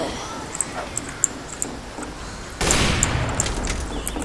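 Gunfire in the Team Fortress 2 video game, a quiet run of rapid clicking shots followed by a louder, sustained burst of noisy firing toward the end.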